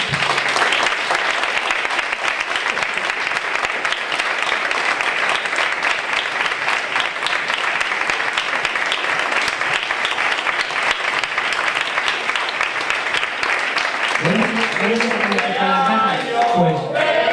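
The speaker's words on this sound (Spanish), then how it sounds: "Este aplauso es para vosotros." Sustained, loud audience applause fills a room at a novel presentation, dense clapping carrying steadily throughout before a voice begins speaking near the end.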